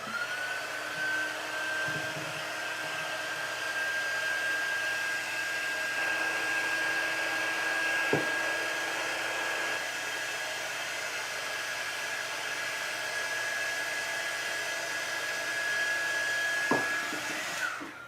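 A heat gun blows steadily and loudly for the whole stretch, warming paint on a handmade rolling pin or table riser craft piece, with a faint high whine and a couple of brief clicks, no voices.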